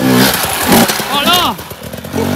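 A motocross motorcycle rides on a dirt circuit, its engine revving loud and near with rising and falling pitch, partly under excited voices speaking nearby.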